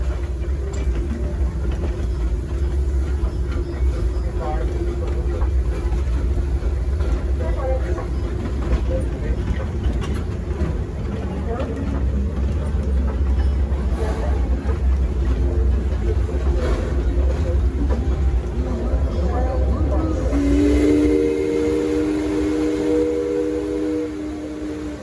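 Steady rumbling ride aboard a steam engine train at the Six Flags Over Texas amusement park, a continuous loud low roar with clattering throughout and a brief higher tonal whine near the end.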